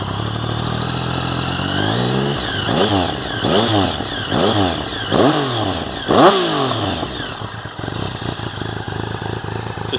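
A 2013 Triumph Speed Triple R fitted with an aero exhaust, revved hard toward its limiter in a run of sharp, loud throttle blips that rise and fall one after another, close up and with no talking.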